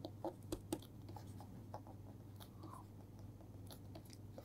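Pen or chalk writing by hand during a thermodynamics tutorial gives soft, irregular scratches and light taps over a low steady hum, faint and close, with no voices.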